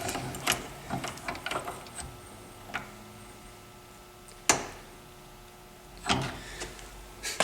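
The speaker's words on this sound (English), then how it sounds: "And then now it's pretty much just tighten the nut up." Wrench tightening an AN-style nut onto a fuel line fitting during a twin-turbo 5.2 Magnum fuel system build, heard as several sharp close metallic clicks and ratchety taps spaced irregularly over a quiet background.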